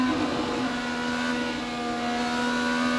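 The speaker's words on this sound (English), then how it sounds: "But listen to Dixon work the throttle." An IndyCar engine at the 2018 Indianapolis 500 drones at high revs, the pitch holding steady with slight throttle variation, loud and close with no talking.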